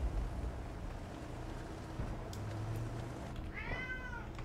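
A cat meows once near the end, a short rising-and-falling call over a low, steady background hum, with no talk.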